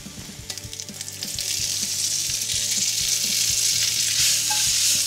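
Asparagus and snap peas hit hot sesame oil in a pan, a loud, close sizzle that builds quickly and holds as a steady frying hiss with light stirring clatter and no voices.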